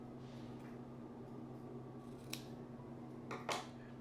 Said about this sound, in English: I am going to trim this extra fringe I don't need.